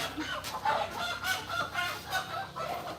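Chickens on a farm, among them a crowing rooster, cluck in short rhythmic bursts close by, one call rising above the others, with no talk.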